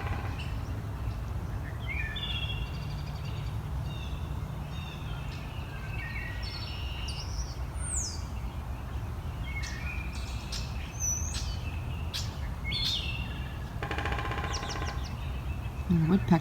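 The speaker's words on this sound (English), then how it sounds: "we heard the first wood thrush today. It's my favorite song of spring." A wood thrush singing on a spring morning, its clear fluting phrases coming from a moderate distance over a steady low outdoor rumble, with other faint bird chirps scattered throughout.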